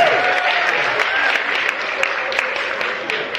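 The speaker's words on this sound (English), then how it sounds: "We can clap for customer service workers." Comedy club audience at the Chicago Laugh Factory claps steadily for a few seconds, a close, dense patter of many hands with a few louder individual claps standing out.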